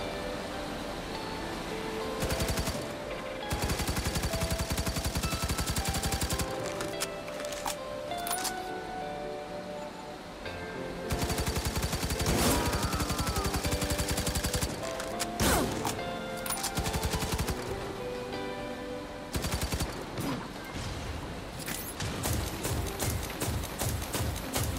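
Automated turret fire rattles in the online shooter Firefall: repeated sustained bursts of rapid gunfire, several seconds each, separated by brief lulls over steady game background noise.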